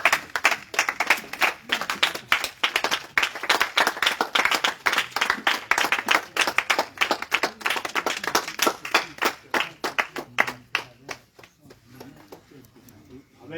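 A church congregation claps in acclaim of the Lord with loud, rapid, sustained clapping, while voices speak underneath. Near the end the clapping thins out and fades.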